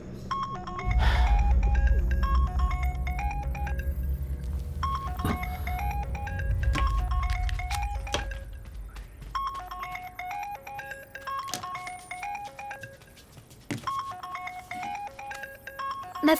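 A melodic electronic phone ringtone plays a repeating pattern of bright tones, with a few thumps and low rumbles mixed in early on.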